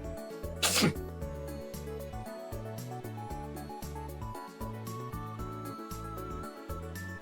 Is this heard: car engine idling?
no